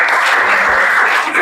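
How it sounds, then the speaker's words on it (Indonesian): An audience at a school talk show applauds warmly, dense steady clapping that holds at a loud level for the whole moment. "Tepuk tangan dulu teman-teman."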